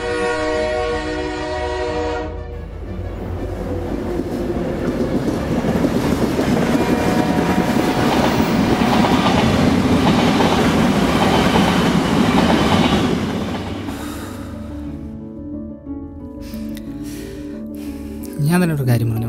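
A train passes close by, a loud rolling rumble that swells and holds for several seconds, then fades as it moves away, leaving quieter scattered sounds behind.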